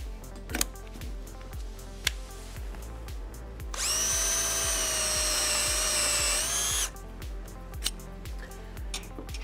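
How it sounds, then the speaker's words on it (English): Festool TXS cordless drill running in a fast gear as it bores into timber, a steady high-pitched whine lasting about three seconds between quieter handling clicks and taps. "For drilling timber, use gear 2 for a faster speed which will give you a cleaner cut."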